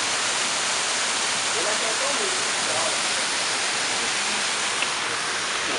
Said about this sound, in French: Voici l'eau qui arrive au moulin pour faire tourner la grande roue.